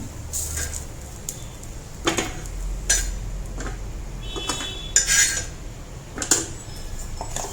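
Cooked pearl millet (sajje) dosa lifted from the pan onto a plate, heard as a string of close metallic clinks, scrapes and taps of utensil against pan and plate at irregular intervals.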